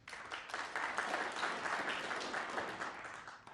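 Snooker match crowd at the Welsh Open in North Wales breaking into applause, a faint, steady patter of clapping hands that holds for a few seconds and then tapers off.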